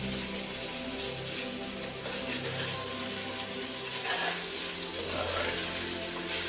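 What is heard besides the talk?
beef browning in one pan for shepherd's pie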